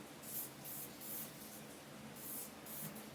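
Spray paint hisses onto a Mustang gauge bezel in several short, close bursts, each about half a second long, separated by brief quiet gaps.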